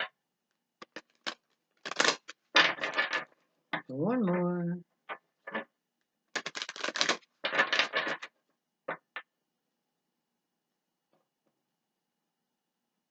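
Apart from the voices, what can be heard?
tarot cards being shuffled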